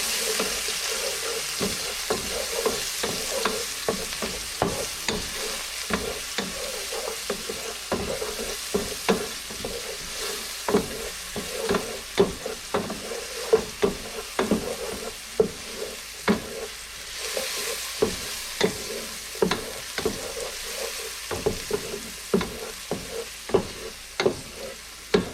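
Onions and garlic sautéing in a pan over medium heat for Filipino binagoong pork, a soft sizzle under repeated scraping and clacking strokes of stirring that grow sharper and louder toward the end, with no speech.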